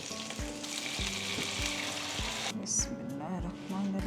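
Saag hitting hot ghee with onion sizzles under a run of sharp, rhythmic scraping and tapping from a spoon against the pan, and a bright clink near the middle.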